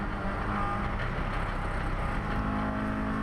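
Race cars, including a blue Honda S2000 and a red BMW, battling on the COTA circuit during a GLTC race, their engines producing a steady, dense roar that holds throughout.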